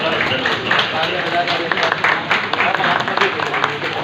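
Applause from the audience at a Hindu New Year (Vikram Samvat 2079) community event, a loud, busy burst of many hands clapping that runs for about four seconds with voices mixed in beneath it.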